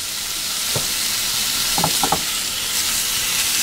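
Bacon sizzles steadily in a hot pan, a continuous broad hiss with a few short stirring scrapes and spatters, fairly loud and close, with no talking.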